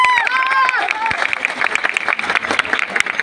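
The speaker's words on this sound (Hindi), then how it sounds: "तालियां नहीं रुकनी चाहिए।" A crowd claps loudly and continuously at a student dance competition in Gorakhpur, with voices and a high whistle carrying over the applause.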